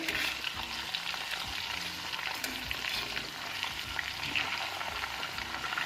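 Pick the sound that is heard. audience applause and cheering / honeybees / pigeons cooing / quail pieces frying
quail pieces frying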